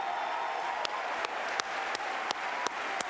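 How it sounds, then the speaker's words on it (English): Audience applause at the AERA 2024 Annual Meeting opening plenary: a steady wash of clapping from a large crowd, with a few louder, evenly spaced claps standing out near the front. "Can we show them a big round of applause?"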